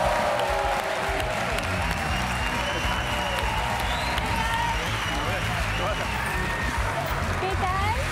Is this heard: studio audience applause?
yes